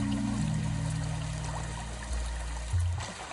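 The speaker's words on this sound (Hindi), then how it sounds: "मन को जल संगीत का अनुभव कराती ये लहरें।" Water washing and pouring steadily near the microphone, with a deep rumbling low end that swells slightly near the end.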